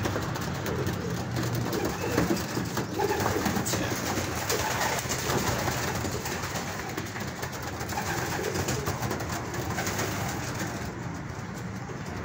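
Pigeons coo continuously in a low murmur over a steady, noisy background, several birds overlapping, no voices.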